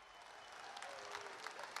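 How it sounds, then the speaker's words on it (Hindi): An audience at a public meeting in Mumbai applauds to welcome the Prime Minister, a steady wash of distant crowd clapping that is faint at first and swells slightly toward the end. "आदरणीय प्रधानमंत्री तथा मंच पर उपस्थित सभी सम्माननीय अतिथियों का फिर से एक बार जोरदार तालियों के साथ स्वागत करेंगे"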